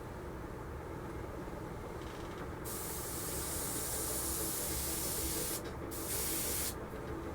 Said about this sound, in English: I'll have to do a test spray. Just make sure this is going to spray okay.